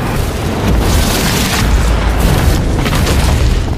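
A loud, sustained roaring blast rumbles heavily throughout, a dense boom with crackling debris that never lets up.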